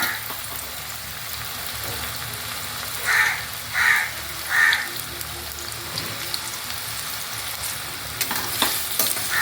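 Three loud caws from a crow ring out in a row, about a second apart, over the steady sizzle of mango frying in oil in a home kitchen; there is no speech.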